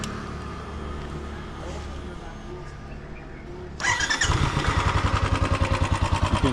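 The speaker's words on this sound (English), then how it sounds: "You can hear the engine. It's not that loud." A small motorcycle engine in Srinagar, India, starts up and idles with a rapid, steady putter, heard up close after a stretch of low background rumble.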